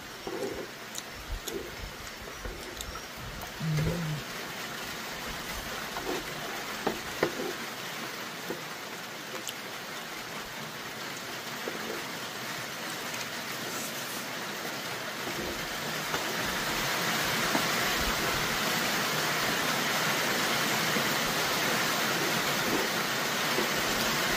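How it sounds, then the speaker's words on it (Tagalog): Steady rain falling outdoors, a dense even hiss of drops that grows louder and fuller partway through as the shower builds, with no voices. "Sisimula na namang umulan."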